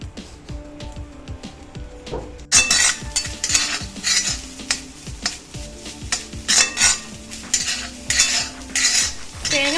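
Spices sizzling and frying in coconut oil in a pan for a crab curry, a quiet opening that jumps to loud, steady crackling sizzle with repeated stirring scrapes and clinks of a utensil against the pan.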